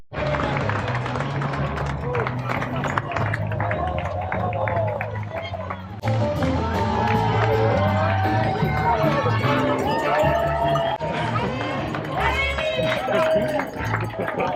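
Spectators cheer and clap for runners passing through Les Houches during the UTMB ultra trail race, a dense, continuous crowd noise with voices and babble close by throughout.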